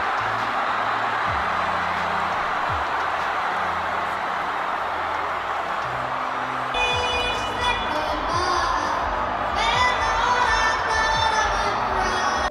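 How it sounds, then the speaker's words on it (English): At Coachella, a large festival crowd roars and cheers as young singer Mason Ramsey walks out with DJ Wethan, a dense, sustained wall of shouting with music entering midway and the cheering swelling again near the end. "The whole crowd just goes completely apeshit when they see him walk out."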